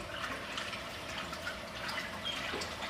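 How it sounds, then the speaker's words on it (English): Water rinses out a small container used for mixing homemade mascara, a steady close wash of running, splashing liquid with faint drips that keeps going without a break. "I'm going to rinse this out again"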